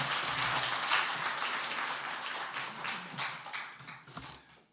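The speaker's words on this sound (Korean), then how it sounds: "박수로 환영하겠습니다" Applause in a church gathering greeting a pastor coming up to preach, a dense steady patter of many hands filling the room at moderate level, tapering off near the end.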